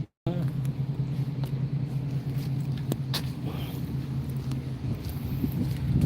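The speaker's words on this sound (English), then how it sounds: "Daming truck dito" Trucks on a busy road give a steady low rumble of heavy engines close by, with faint clatters and passing noise layered over a constant drone.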